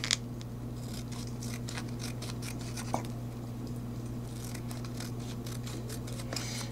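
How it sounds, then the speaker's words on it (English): Scissors cutting foil-backed tape into strips, giving a run of crisp, close snips and scratchy rustles in an irregular rhythm over a steady low hum, with no talking. "I have to use scissors because this is foil-backed tape."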